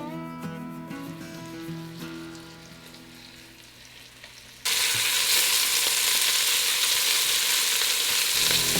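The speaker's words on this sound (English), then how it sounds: "throw in some olive oil and about a quarter stick of butter to get the squirrels all browned up" Squirrel pieces sizzle in a pan of olive oil and butter. A clinking, tonal passage comes first, then a loud, dense, steady frying hiss takes over abruptly and continues.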